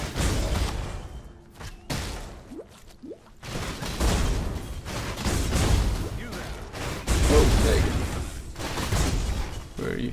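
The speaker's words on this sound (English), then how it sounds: "you just keep hearing explosions going off, and really sound like popcorn" Discharge skill explosions from the video game Path of Exile burst in dense, overlapping thumps and crackles, popping like popcorn, loud and nearly continuous across the clip after a brief quieter start.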